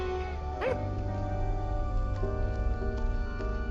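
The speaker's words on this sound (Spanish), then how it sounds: "El perro se apresuró a acudir al lado del hombre, ladrando sin parar, como intentando despertarlo" A single dog bark or yelp rises early over steady background noise, followed by fainter sounds; no clear repeated barking.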